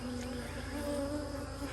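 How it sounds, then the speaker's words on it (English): Honey bees at an apiary nuc hive, a dense continuous buzzing drone of many insects close to the microphone, steady throughout with no talking. "There's a lot of bees in that nuke. I mean, it was full of bees."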